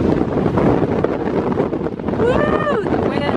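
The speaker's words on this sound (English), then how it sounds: "The wind!" Strong gusts batter the microphone with loud, continuous rumbling on the windy hilltop of Arthur's Seat in Edinburgh, and a voice rises briefly over the buffeting.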